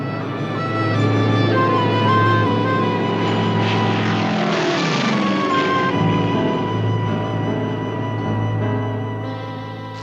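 A propeller airplane flies in, its engine drone loud, steady and buzzing, rising to a peak as it passes close and then slowly fading while staying strong throughout.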